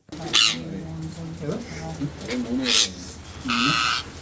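Seized rose-ringed parakeets, caught in Tamil Nadu, give harsh screeching calls in short bursts, several loud squawks spaced apart, while a person talks underneath.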